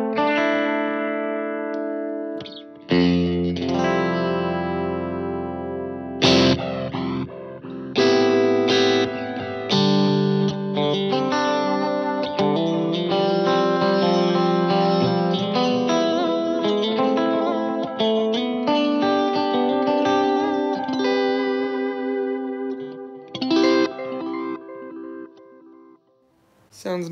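Electric guitar run through a ping-pong delay set to 50% scale, loud chords and notes with repeating echoes bouncing after each phrase, brief pauses between strums.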